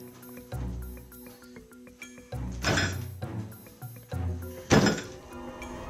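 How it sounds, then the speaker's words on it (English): A wild turkey bangs against a house's front door. Two heavy, booming thumps, plus scattered lighter knocks, stand out over a low indoor hum, with no clear speech. "There's a turkey banging on my front door."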